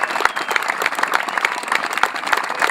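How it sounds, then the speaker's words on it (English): An audience at a gathering breaks into a short burst of steady, dense applause, many hands clapping together at moderate distance. "Big round of applause, and then we're on to there."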